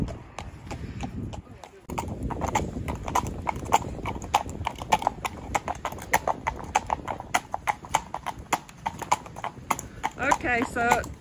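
A ridden horse walks with a steady, close clip-clop of hooves, with sharp regular strikes over a low background, while people talk throughout and a short whinny-like sound rises near the end.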